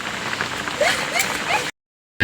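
Rain falls in a steady, close patter with scattered drip accents and faint voice traces, then cuts briefly to silence before returning.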